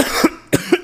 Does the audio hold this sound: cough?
yes